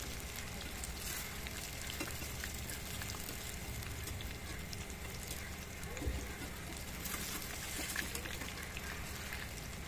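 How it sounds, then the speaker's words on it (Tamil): Chicken 65 pieces deep fry in hot oil until golden brown, giving a constant, low-level bubbling sizzle that carries on steadily with only small shifts in intensity. "இப்போ நல்லா கோல்டன் ப்ரௌனாக நல்லா பொரித்து எடுத்துக்கோங்க."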